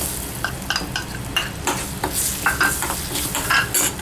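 Chopped onion stirred and frying in a pan for a brinjal fry, loud busy sizzling with repeated clinks and scrapes of a spoon against the pan.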